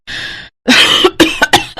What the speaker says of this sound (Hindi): गला सूख रहा है और खांस खांस कर काफी